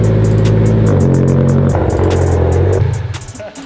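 A Mitsubishi Evo X engine that sounds abnormal revs loudly and close by, its pitch stepping up and down through several surges with a rattly clatter, then dropping off toward idle at the end.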